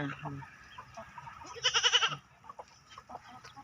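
Rooster and hens call around a farmyard with goats nearby, scattered clucks followed by one loud drawn-out squawk in the middle, with voices faintly under it.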